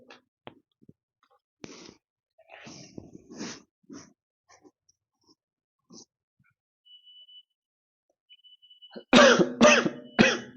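A man gives several short coughs that are scattered and faint at first, then three loud, harsh coughs close together at the end, with quiet pauses between them.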